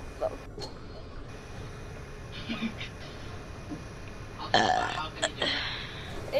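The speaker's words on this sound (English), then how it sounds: "How can you guys just burp willingly?" During a Borderlands: The Handsome Collection gaming session, a few scattered burps come over low room noise and background chatter, with a louder burst near the end.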